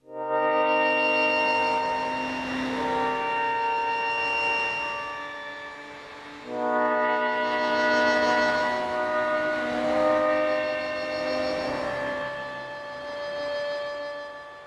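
A VST synthesizer patch with randomized effects, modulation and envelope plays two long, bright, buzzing sustained tones, the second starting after a short dip, thick with harmonics and wavering.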